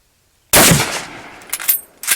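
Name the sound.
French MAS-36 7.5x54mm rifle shooting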